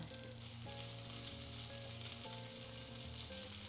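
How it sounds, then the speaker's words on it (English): Steak fat sears in a hot pan indoors, a steady loud sizzle and crackle that runs unbroken the whole time, with no talking over it. "It looks like this is giving us the best sear out of everything so far."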